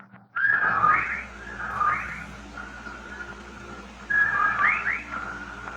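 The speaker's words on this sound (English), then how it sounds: "legion of whippoorwills cried loudly and rhythmically, endlessly" A flock of whippoorwills cries in a radio drama sound effect, a repeating whistled call that comes in swelling waves about every couple of seconds over a steady background hum, loud and close with no talk.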